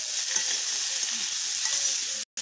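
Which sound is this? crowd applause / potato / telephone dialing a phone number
potato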